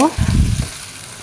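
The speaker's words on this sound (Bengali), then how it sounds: "তো এখন রসুন ও পেঁয়াজ ভালোভাবে ভেজে নেব।" Whole local garlic cloves and onion fry in a pan for a dried-fish curry, giving a short, loud, close sizzle that lasts about a second, with a voice trailing off at the very start.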